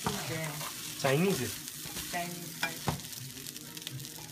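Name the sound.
stir-frying rice in a pan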